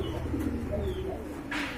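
Pigeons cooing at a market stall among pigeons for sale, low soft throaty coos repeating under a steady background hum, moderately near.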